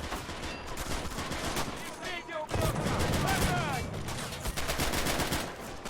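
MP40 submachine guns fire in the video game Men of War: Assault, set in the 1943 Battle for Stalingrad. Continuous rattling bursts overlap with other battlefield gunfire, loud and close, and a brief break comes midway.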